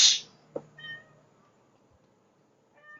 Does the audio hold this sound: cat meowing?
yes